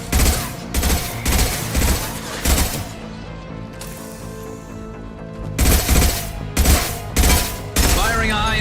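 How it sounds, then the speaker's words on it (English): Gunfire in Mass Effect 2, loud bursts of rapid shots in rhythmic clusters, a quieter break with game music and sound, then more volleys of close, heavy fire. "Firing a high-impact shot."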